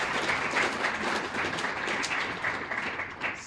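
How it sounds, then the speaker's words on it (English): Audience applause at an evening talk on trauma in mountain biking, a steady wash of many hands clapping at moderate distance, fairly soft and unbroken. "let's have another round of applause for Bridget and Chloe as well"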